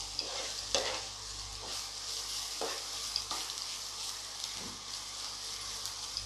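Chili powder sautés in a pan for a Konkani-style karandi prawn tawa fry, a steady close sizzle broken by periodic scraping strokes of a spoon stirring, with no speech.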